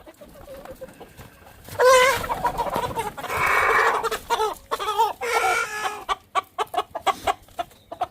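Chickens cluck close by in short, uneven bursts, with a rooster's drawn-out crowing calls standing out among them.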